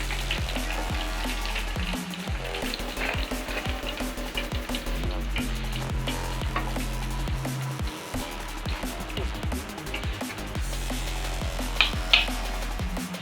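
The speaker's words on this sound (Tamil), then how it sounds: "பாருங்கள், நம்மளோட சிக்கன் நல்லா ஃப்ரை ஆகிருக்கு." Chicken fries in oil for chicken fried rice, giving a continuous bubbling sizzle with dense, fine crackles and scattered sharp pops. A low background hum runs underneath and no one speaks.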